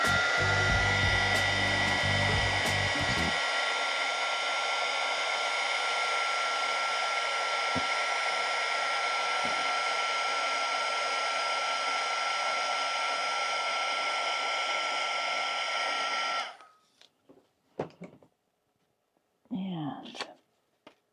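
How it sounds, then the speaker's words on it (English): Heat gun blowing hot air over gel print paper, a loud steady whirring roar lasting over fifteen seconds before it cuts off, followed by brief handling sounds and a short voice. "I'm gonna hit this with a heat gun"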